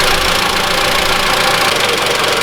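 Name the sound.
Mitsubishi ASX 1.8 engine running after restart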